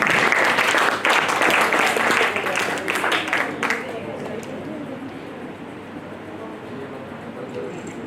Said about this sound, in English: Please join me in giving a huge round of applause for Aayush Malayil.